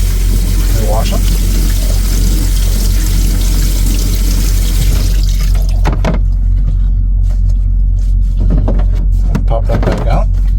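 Tap water runs steadily as fresh market tomatoes are rinsed in the strainer of a cutting board, a continuous close splash and trickle that stops partway and later returns in short bursts.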